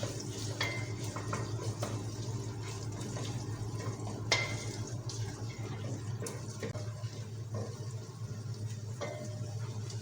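Tomato paste sautés in a pan with a soft, steady sizzle, broken by occasional utensil clinks and scrapes against the pan over low background noise.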